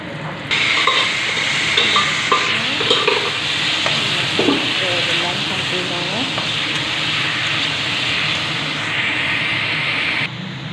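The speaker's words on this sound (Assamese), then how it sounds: "বেঙেনা ফ্ৰাই কৰি আছোঁ" Eggplant frying in a pan makes a loud, continuous sizzle close by, with occasional stirring clatter and faint background voices mixed in.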